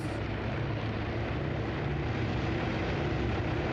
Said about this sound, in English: See all those engines lighting up.